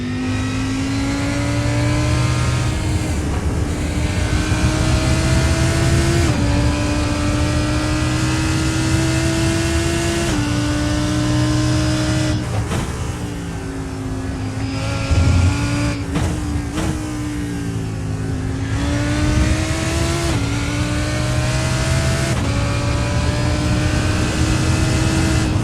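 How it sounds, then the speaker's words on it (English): Race car engines roar steadily in a GT3 sprint racing video game as a Lamborghini is overtaken, loud continuous engine drone with rising pitch sweeps and brief shifts between gears. "now you get me overtaking this this lovely Lamborghini"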